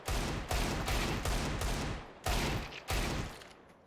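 A Desert Eagle pistol fires in a video game: about six heavy, sharp shots in quick succession, each with a short booming tail, loud and close, with no talk.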